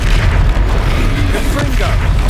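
A spell is cast mid-battle with a huge troll in Hogwarts Legacy, heard as a loud, deep boom within constant rumbling combat noise, with a voice over it.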